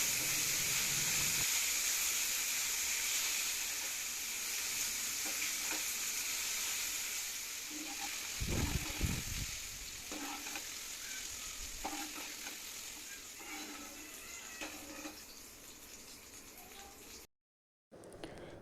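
Okra sizzles with salt in a pan, a continuous close frying hiss broken by occasional stirring scrapes and spoon knocks, with a brief silent gap near the end.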